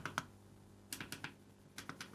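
Small keys on an M5Stack Cardputer, an ESP32-S3 pocket computer, click in light irregular taps, a couple at first, then a quick run of several, crisp and close.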